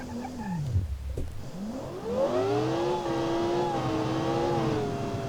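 A supercar engine in the Automation car tycoon game dips, then revs hard and climbs at full throttle into a sustained loud, rising whine that holds steady, with no talking.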